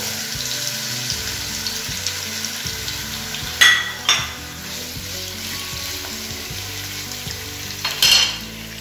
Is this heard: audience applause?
no